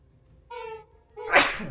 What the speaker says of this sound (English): Excuse me, didn't mean to sneeze.